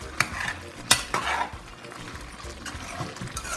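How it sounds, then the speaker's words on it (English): A spoon scrapes and clanks around a pot of Igbo-style vegetable soup while it sizzles, with two sharp metallic knocks early on and then softer stirring over a low frying hiss. "So I'm turning everything together."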